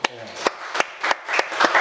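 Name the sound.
church congregation applauding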